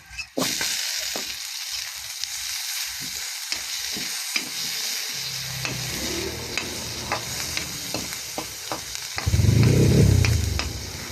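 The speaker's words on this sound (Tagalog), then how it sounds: "Halo na natin ang chicken." Chicken frying in a pan for adobong pancit, with a steady hiss of sizzling, repeated light scrapes and taps of stirring, and a louder burst of sizzle near the end.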